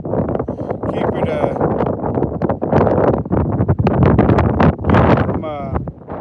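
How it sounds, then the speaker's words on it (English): Wind buffeting a camera tripod and microphone outdoors while trout fishing, loud continuous rumbling gusts that rise and fall, with a person talking through much of it. "Trying to block the wind a little bit"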